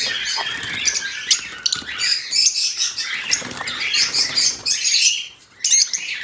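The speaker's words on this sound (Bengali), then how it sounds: "এই যে আরেকটি ফিমেল পাখি, এটা হচ্ছে গ্রিন অপালাইন।" Green opaline budgerigars chirp and squawk in a busy, continuous chatter with bursts of wing flapping, close and fairly loud, no talk over it.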